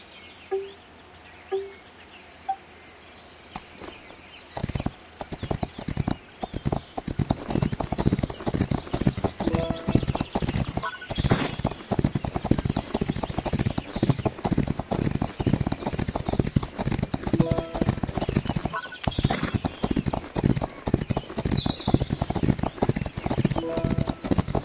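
Galloping horse hooves from the Rival Stars Horse Racing video game, a fast steady clip-clop rhythm running loud and continuous through a race course after a quieter opening, with occasional brief gaps.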